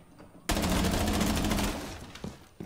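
A single loud burst of rapid automatic gunfire in the video game Rainbow Six Siege, lasting just over a second and followed by a few faint scattered clicks.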